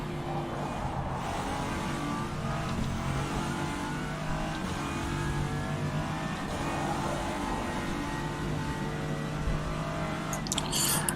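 LMP1 prototype race car from rFactor 2 lapping Road America in traffic, a steady loud engine drone with shifting harmonics, sustained throughout with a brief sharper burst near the end.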